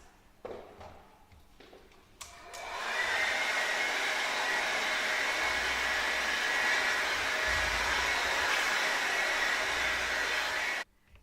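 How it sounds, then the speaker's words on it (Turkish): A hair dryer roars steadily for several seconds, drying paint on wood, after a few faint taps and clicks, then cuts off abruptly. "Şimdi fön makinamızda çabuk kurması için fön makinesi kullanarak kurutacağız."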